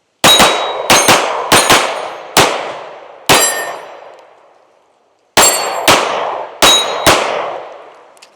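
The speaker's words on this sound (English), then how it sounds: "I'm going to shoot this with the small backstrap first, then we'll shoot that" Shots from a compact metal-frame 3.6-inch S&W pistol ring out outdoors, nine sharp loud cracks in quick pairs and singles, each trailing a short metallic ring, with a pause of about two seconds midway.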